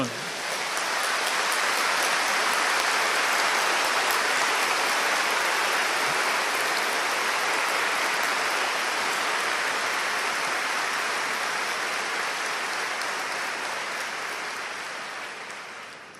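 A lecture hall audience applauds at length, a dense, loud, even roar of many hands clapping that holds steady and then gradually tapers off at the end.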